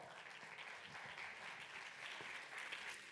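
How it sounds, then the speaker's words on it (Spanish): A conference audience gives steady, continuous applause, a dense patter of clapping hands that lasts for about three seconds without talk. "Un fuerte aplaudimiento para ella, si os plau."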